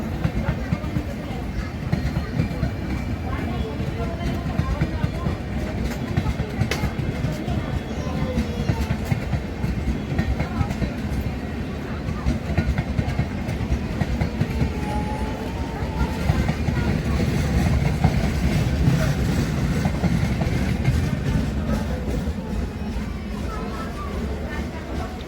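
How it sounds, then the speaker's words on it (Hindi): An Intercity Express train pulls out of Sonipat Junction, a steady loud rumble with faint wheel clatter continuing throughout, rising slightly toward the end. "3:13 पर सोनीपत जंक्शन से हमारी ट्रेन का डिपार्चर हो जाता है।"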